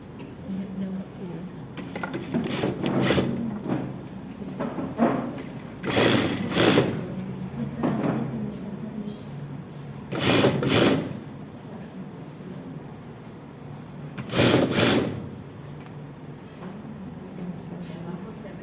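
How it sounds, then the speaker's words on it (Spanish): A sewing machine stitches the side seams of a pleated skirt in several short bursts of rapid whirring, each lasting a second or so, with quiet pauses and faint room noise between runs. "voy a proceder a unir los costados"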